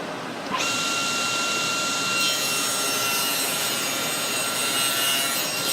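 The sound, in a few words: cutting a walnut strip with a hardwood small parts jig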